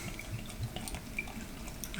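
Home-brewed beer pours from a Pinter into a glass with a soft continuous splashing trickle, faint and close, with a few dripping ticks.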